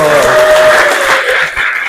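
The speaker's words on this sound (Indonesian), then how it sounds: "Kita tepuk tangan dulu." A class of students claps together in a business and marketing lesson, a loud, dense burst of applause lasting about two seconds, with a voice briefly sounding over the start.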